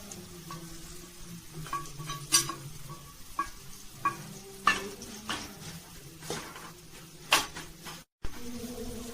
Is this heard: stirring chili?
yes